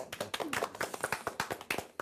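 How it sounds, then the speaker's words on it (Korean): A small audience claps along at a talk show, quick separate hand claps in an uneven rhythm, fairly quiet and close, with no voices over them. "박수 한번 치고요"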